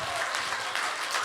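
Audience applause at a church small-group leaders' workshop: a steady, dense wash of many hands clapping, close and continuous through a brief moment.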